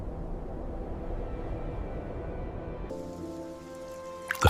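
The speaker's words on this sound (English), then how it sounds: "The first drop of rain falls on the cracked earth, not fire, but water." Steady soft rain patters on a surface, a continuous gentle hiss that shifts tone midway, ending with a brief sharper clatter.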